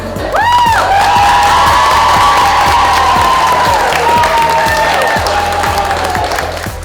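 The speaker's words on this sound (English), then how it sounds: "We're all greeting them, clapping, and just making them feel welcome and get the energy out." Students clap and cheer loudly to welcome new families at a school open house, a dense sustained roar of applause with shouts and whoops from a close, energetic crowd.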